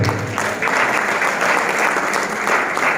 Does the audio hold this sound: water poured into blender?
no